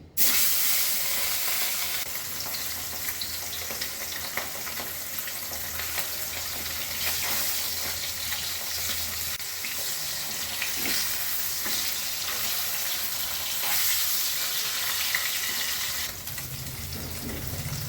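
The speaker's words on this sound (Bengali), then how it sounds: "প্রথমেই আমি মাছগুলো ভেজে নিচ্ছি।" Pieces of rohu fish fry in hot oil in a pan in a home kitchen. A loud, continuous sizzle and crackle runs close and steady for the whole stretch, with occasional stirring clatter and no speech.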